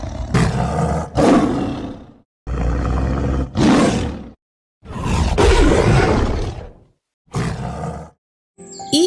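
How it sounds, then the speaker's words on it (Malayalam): A tiger roars at Thiruvananthapuram (Trivandrum) Zoo, loud and close, in five deep, rasping bursts separated by short silences. "തൊട്ടടുത്തുള്ള കൂട് കടുവയുടേതായിരുന്നു."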